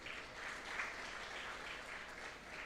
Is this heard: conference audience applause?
yes